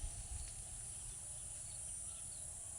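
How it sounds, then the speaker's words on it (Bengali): Crickets chirp outdoors on a cloudy afternoon, a thin steady high-pitched trill running through the whole stretch over a low, constant background rumble, with no talking. "ঝিঝি পোকার ডাক শোনা যাচ্ছে"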